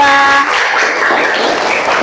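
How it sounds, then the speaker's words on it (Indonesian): Applause from a group of students in a classroom, honoring a student group after their presentation at a vocational high school; dense, steady clapping throughout, fairly loud. "Tepuk tangan buat kelompok 2."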